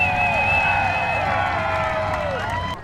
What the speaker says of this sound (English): Let's give him a round of applause for Knuckin' Butts there.